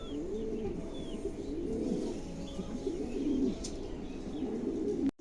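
A pair of pigeons for sale coo softly in low, rolling, repeated phrases, fairly quiet and close, with a few faint chirps above.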